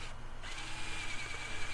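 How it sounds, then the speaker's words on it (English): Power drill boring a 1 inch hole into wood with a Forstner bit: a close, steady whirring grind that holds level through the short stretch, with no talk. "drilling this hole to the depth that I want it"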